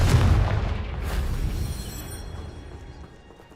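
A Confringo spell explosion in the Hogwarts Legacy video game on PC, a deep booming blast that hits loud at once and rumbles away over a few seconds.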